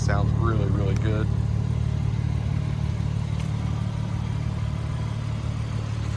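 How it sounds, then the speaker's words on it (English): Open exhaust of a 2023 BMW M4 Competition Convertible idles with a steady low burble after a brief rev, a voice talking over the start. "Hit M2 on this car on the steering wheel and the exhaust opens up. Sounds really good."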